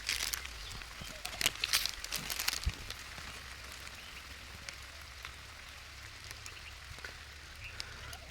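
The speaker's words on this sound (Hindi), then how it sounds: "फिर पानी बरसता हुआ" Steady rain falling with scattered drops pattering nearby, a few sharper taps early on, continuous and moderately quiet throughout.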